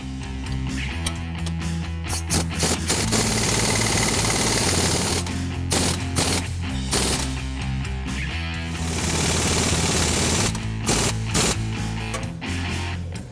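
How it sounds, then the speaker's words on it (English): A power tool tightens the strut nut on a 1979-1993 Mustang GT/Cobra during an Eibach Pro-Plus suspension install. Close, loud rattling bursts of hammering rotation come one after another, broken by short pauses. "Now we can tighten down the strut."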